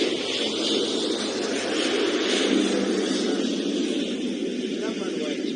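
Aircraft engine roaring at an airshow, a broad sustained rumble from a plane passing at a distance, with a faint announcer-like voice beneath.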